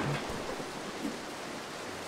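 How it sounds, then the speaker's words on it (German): Steady hiss of rain during a thunderstorm in the stealth video game Mark of the Ninja, with a dull low rumble near the start, constant and even. "Blödes Gewitter."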